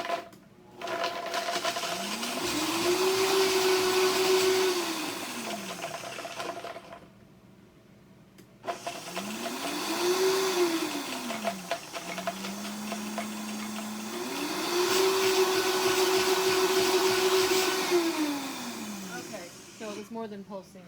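A food processor pulses Brazil nuts with nutritional yeast and salt, three loud whirring bursts with motor pitch rising and falling, separated by short pauses, close by with a voice talking in between.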